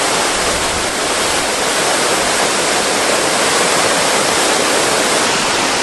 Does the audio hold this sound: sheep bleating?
no